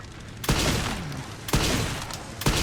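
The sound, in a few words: gunshots in video game Resident Evil 9 Requiem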